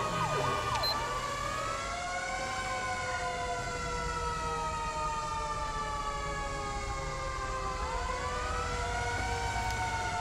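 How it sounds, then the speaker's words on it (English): Fire engine siren from the game GTA 5, in a Los Angeles fire department engine, wailing in long rising and falling sweeps that stay steady and loud throughout, with a low rumble underneath. "I don't think they use a power call siren in Los Angeles"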